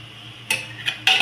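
Spoon scraping and clinking in a pan while stirring aubergine curry with onion, chutney, salt and ground peanut powder, heard as three short, sharp metallic scrapes close up against a quiet background.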